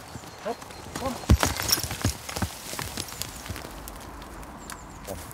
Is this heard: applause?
no